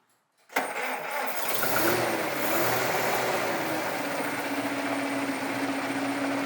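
After a brief quiet moment the engine of a 1966 Plymouth Barracuda with a 6-volt system cranks and catches, then settles into a loud, steady idle that runs on to the end.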